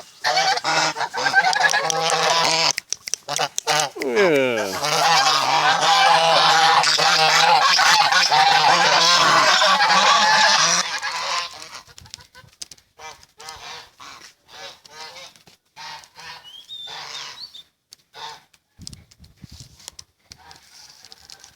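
Geese honk loudly and repeatedly in a noisy chorus for several seconds, then the calls thin out to scattered honks mixed with brief Thai speech and rustling while goose eggs are collected.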